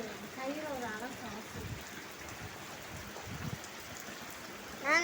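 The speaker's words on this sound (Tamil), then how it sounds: "ஆனால் இப்படி மழை பெய்யுது இன்னைக்கு நைட்டு." Steady rain falls at night, a soft broadband hiss that runs throughout beneath people talking nearby.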